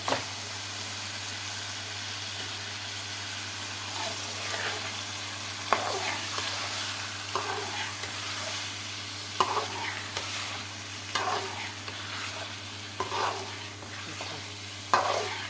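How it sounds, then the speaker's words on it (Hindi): Fish fries in a pan over high heat with a continuous hiss. Stirring scrapes and clinks recur every second or two, and a low steady hum runs underneath. "फिश मैंने इसमें डाल दी है, मैं इसको भून लेती हूँ।"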